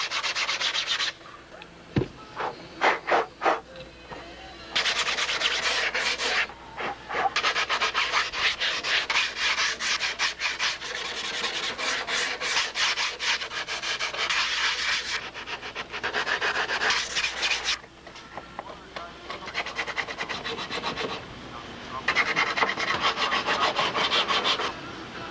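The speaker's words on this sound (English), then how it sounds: "Use of the sanding blocks right now." Sanding blocks rub over fiberglass-covered wood on a model airplane, with close, raspy back-and-forth strokes in uneven bursts and brief pauses between passes.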